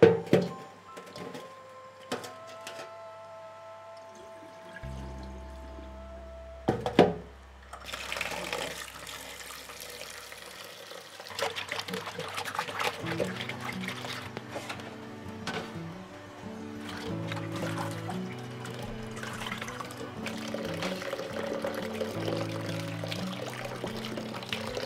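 Tap water running and splashing while salted cucumber is washed in a kitchen, steady pouring with handling clatter and a few clunks, moderately close, with brief talk early on.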